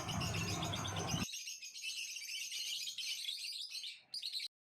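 Small birds chirp and tweet continuously in a rooftop garden planted with assorted trees, a dense, bright twittering close by that carries on without pause.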